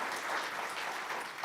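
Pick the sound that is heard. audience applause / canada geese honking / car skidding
audience applause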